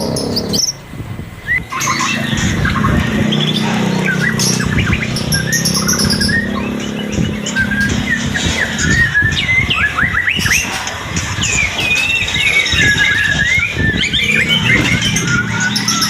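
A caged songbird chirps and trills continuously at close range, bright rapid phrases over a constant background hum.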